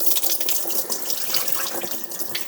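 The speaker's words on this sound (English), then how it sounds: "you just put it under your water and you stir it around." Tap water running steadily onto rice in a bowl or sink, a close, continuous rushing splash with light swishing as the rice grains are stirred.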